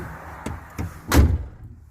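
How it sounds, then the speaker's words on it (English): The cab door of a MAN TGX 400 truck swings shut with a firm, close slam, preceded by a couple of lighter clicks and thumps from the handle and latch, followed by muffled quiet inside the cab. "I'm gonna close the door."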